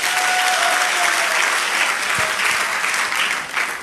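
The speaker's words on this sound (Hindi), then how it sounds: "जोरदार तालियां होना चाहिए दोस्त" An audience at a motivational business seminar bursts into strong, sustained applause. Dense clapping fills the room evenly and holds steady before easing slightly at the end.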